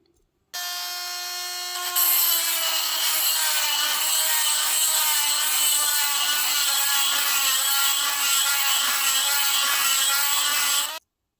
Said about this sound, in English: So we're going to drill those out